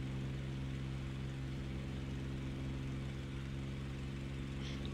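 Propeller warbird taking off in the DCS flight simulator, Normandy 1944 setting, a steady, even engine drone with a strong low hum that holds throughout at moderate distance.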